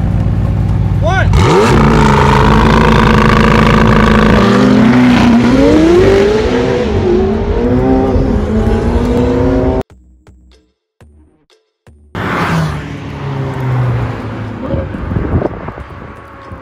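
McLaren 720S and Ferrari 488 Pista supercars launching hard in a drag race, engines loud and close as they rev and climb through gears with heavy wind noise, then a brief near-silent gap before more engine and voices.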